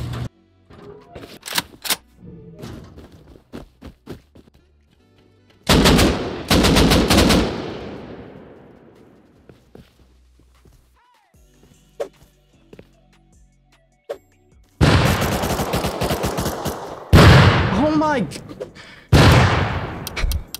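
Rapid MP5 gunfire in the Rust Console video game, mixed with a grenade blast, arriving as several loud bursts of automatic shots separated by quieter gaps with scattered single impacts.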